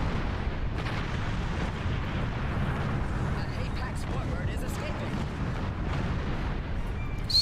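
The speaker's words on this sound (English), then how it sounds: "So much explosion." Dense, continuous rumbling blasts from a video game fill the scene, repeated booms and bursts layered over one another at steady loudness.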